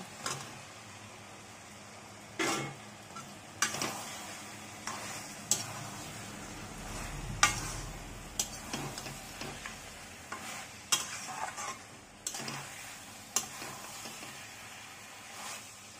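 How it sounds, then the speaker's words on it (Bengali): Fried potatoes tip into a sizzling pan of lentil-fritter curry made with ground spice paste, then get stirred, with sharp scraping knocks of the spoon at irregular intervals over a soft, steady sizzle. "এবার দিয়ে দেবো আলু, ভাজা আলুর উপরে ভাজা আলুগুলো ছেড়ে দেবো।"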